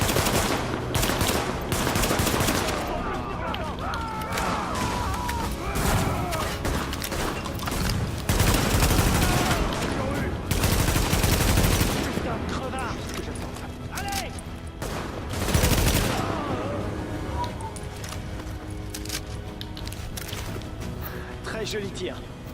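Gunfire in the video game The Division, dense bursts of automatic machine-gun fire and heavy shots that go on almost without pause, loud and close, with game voices talking over the shooting.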